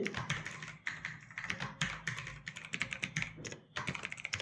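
Computer keyboard typing while filling in a name on an online form, quick irregular bursts of close key taps with short pauses between them.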